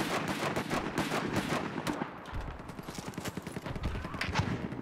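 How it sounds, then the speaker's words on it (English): Mortar and gunfire boom and crackle in a large 32 vs 32 online shooter match on the Locker map, with dense, irregular bursts of impacts and shots overlapping throughout and no clear break. "I want to see that mortar hit right in the middle"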